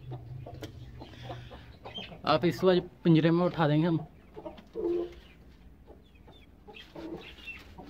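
A hen near a cage of eggs clucks in short, close bursts, mixed with a person speaking nearby.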